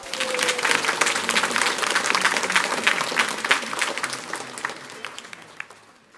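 Congregation applause for a church choir during a Sunday Mass, a large room full of clapping, dense and loud, slowly tapering toward the end.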